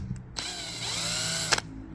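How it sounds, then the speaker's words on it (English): Ordinary power drill fitted with a rubber eraser wheel attachment, spinning against a Fiat bumper to strip off decals: a steady high-pitched whirring grind of about a second, with short clicks at the start and end, close and loud. "Comes with the attachment, and it goes into your bog standard drill."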